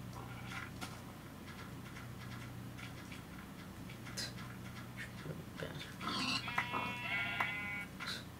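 Sheep in the Minecraft video game give repeated short bleats scattered through a quiet background, growing louder with a cluster of wavering calls near the end, and no talk is heard.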